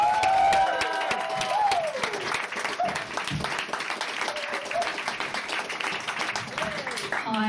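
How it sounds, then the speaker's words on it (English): A crowd at a student stand-up comedy revue in Edinburgh applauds and cheers loudly at the start, then the noise eases into a steady clapping wash with voices and some tonal sound mixed in. "Cheer and shout, guys."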